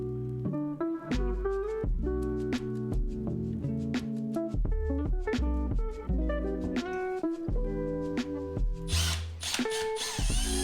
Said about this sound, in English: just drill out new holes on the new one